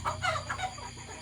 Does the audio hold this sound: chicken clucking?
yes